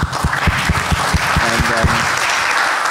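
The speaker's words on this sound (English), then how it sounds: "Big applause for all of you." Applause from a conference audience at the close of a panel session at MENOG 17, a steady wash of clapping from many hands that fills the room, with a few louder claps near the front and a faint voice briefly underneath.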